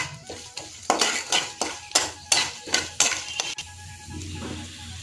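Curry leaves and tempering spices crackle and spit in hot oil in a pan, heard as a series of sharp bursts alongside metal spoon clinks against the pan, followed by a softer sizzle.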